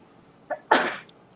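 A single sharp sneeze, close and loud, preceded by a brief quick intake of breath, then quiet.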